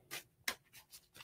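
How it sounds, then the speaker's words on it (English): Tarot cards are shuffled in a few quick, soft riffling bursts, close and quiet in a calm room. "I'm shuffling my cards to pull some cards"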